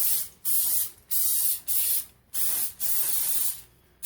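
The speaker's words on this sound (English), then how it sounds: "I'm just gonna spray a little bit" Six or seven short bursts of cooking oil spray hissing up close, each lasting about half a second with brief pauses between them.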